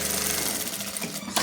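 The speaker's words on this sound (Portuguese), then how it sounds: "Você vai passar na overlock" An overlock machine whirs loudly and continuously at close range while sewing fabric for a baby crib headboard, ending with a short knock.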